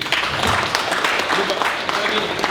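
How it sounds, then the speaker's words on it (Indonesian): Audience clapping at an Indonesian labour ministry event on worker and trade union issues, a steady dense round of applause filling the whole moment at close range. "Tepuk tangan untuk UT"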